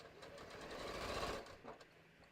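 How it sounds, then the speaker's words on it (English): Sewing machine stitching through thin fabric layers of a bucket hat, a soft close whir that swells briefly and then tapers off into quieter stitching. "The thinner layers are a little bit more fussy to sew."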